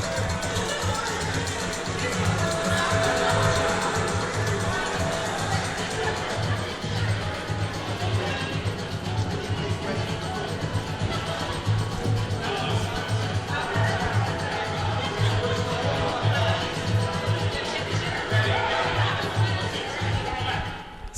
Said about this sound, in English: a drum corps came and was playing it, and they formed a drum circle and just went for it.